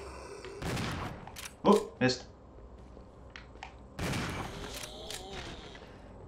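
Shotgun blasts in the video game Resident Evil 0, two sharp close reports about a third of a second apart, with startled exclamations and talk around them.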